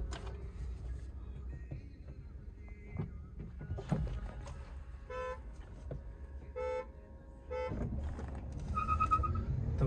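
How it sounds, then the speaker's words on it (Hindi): Car horn toots several times in short bursts among traffic noise during a drag race comparison between a Nexon EV and a diesel Creta, the honks clear and fairly close over a low vehicle rumble. "हॉर्न।"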